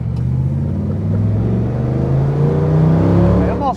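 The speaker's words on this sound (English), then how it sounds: "driving a Ford Mustang Shelby GT350" A 1965 Ford Mustang Shelby GT350 engine pulling hard under acceleration, heard from inside the car as a loud, close, rising low growl with a throaty rumble that climbs steadily in pitch.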